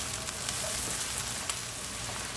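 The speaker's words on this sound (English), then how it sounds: "I will add crushed tomatoes, 1 cup, and fry for about 2 to 3 minutes" Crushed tomatoes and softened onions sizzling steadily in a pan while cooking chole, a continuous close frying hiss with faint pops and no talk.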